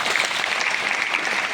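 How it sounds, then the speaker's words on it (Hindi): Loud, dense applause from a seminar audience clapping for their clients, a continuous close burst of many hands with no letup. "अपने सारे क्लाइंटों के लिए जोरदार तालियां दो"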